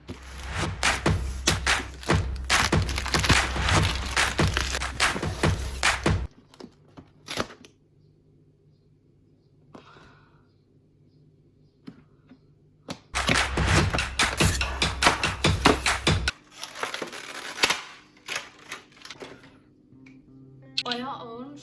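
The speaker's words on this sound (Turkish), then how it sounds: "Şimdi kutuyu açalım." Someone opens and unpacks a Canon EOS M50 vlogger kit box. Cardboard rustles and soft thumps and taps come at close range between stretches of talking, with quieter handling in the pauses.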